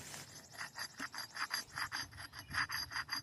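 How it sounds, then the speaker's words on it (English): An axe blade being sharpened with a file or stone, about a dozen rhythmic rasping strokes close by, steady and even, with no talking. "Going back to sharpening this up"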